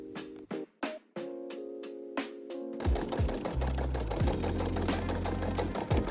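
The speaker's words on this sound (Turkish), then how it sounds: "İkinci iç cebi bu şekilde yerleştirip dikiyoruz" A sewing machine stitches the inner pocket of a denim jacket: several short, separate needle bursts at first, then a long continuous run of rapid mechanical stitching, close up, with no talking.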